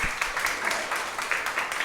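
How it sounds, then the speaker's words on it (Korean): A short burst of audience clapping in a small performance space for a poetry and music event. The claps are dense and individually audible at moderate loudness, with no talk over them. "박수 한번 주시겠어요?"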